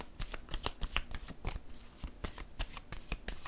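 A tarot card laid down on a table during a reading, heard as a series of close, crisp card snaps and shuffling rustles with an uneven rhythm and no talk.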